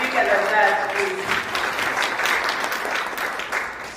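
Steady applause from an audience fills a summit side-event hall, dense and continuous clapping at moderate loudness with no single claps standing out.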